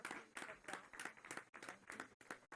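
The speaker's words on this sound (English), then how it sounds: "let's give them a round of applause" Board meeting attendees give a round of applause, and the hand claps land in an even, rhythmic beat of sharp bursts with brief gaps between them. The sound is fairly soft and has no talk over it.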